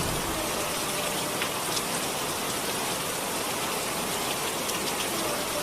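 Steady rain pours down on a village, a continuous even hiss of drops on surfaces with no voices, heard close and fairly loud throughout.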